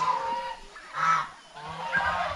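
Several geese honk nearby in a few drawn-out, nasal calls, loud and close with no talking.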